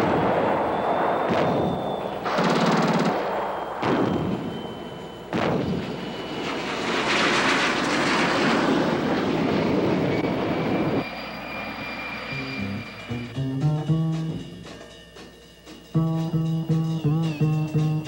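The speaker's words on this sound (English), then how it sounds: "The Fugas, training planes modified for the purpose, hit masses of vehicles with great accuracy." Fouga training jets modified for ground attack strafe enemy vehicle convoys, loud bursts of gunfire and heavy blasts mixed with roaring jet engines over about ten seconds, followed by a rising and falling aircraft drone with strong tonal bands.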